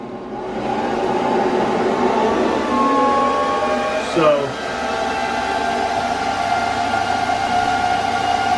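Steady, loud whooshing fan noise from an Antminer S9 crypto miner running inside a cooler runs throughout, with a brief whine and knock near the middle; a voice says a single word.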